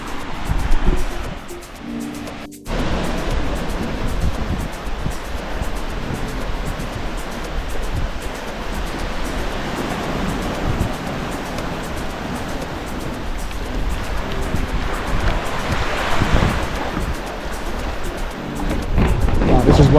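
Ocean waves on Matende Beach in Zanzibar roll in as a continuous broad wash of surf, with a sharp bump early on and swelling louder surges later; no speech is heard.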